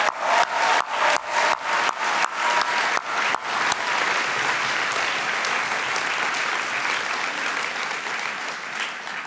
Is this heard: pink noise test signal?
no